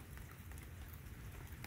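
Steady rain falls outdoors, a quiet, even hiss of drops pattering on surfaces with no voices over it.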